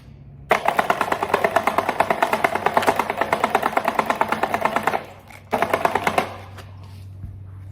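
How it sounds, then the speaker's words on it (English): An EGO string trimmer's motor spins to wind in replacement line, a rapid, buzzing, pulsing whir up close for about four and a half seconds, then a shorter second burst, with quiet pauses around them. "there's a green button up here that you have to press that starts to wind the string"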